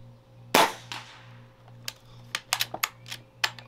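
An air gun fires a pellet with one sharp crack, then a series of lighter clicks and taps follows as it is handled, all close by over a low steady hum.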